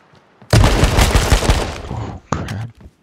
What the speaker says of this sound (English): The gunshots in this game are also pretty fake sounding.